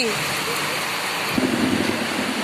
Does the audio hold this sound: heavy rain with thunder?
yes